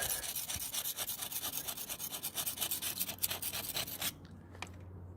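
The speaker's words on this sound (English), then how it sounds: "Just using an old blade on a window scraper, something like that, just to restore what we can." An old blade in a window scraper scrapes crumbling surface off an old wall in a 1650 building, rapid rhythmic rasping strokes close up, ending abruptly into quiet.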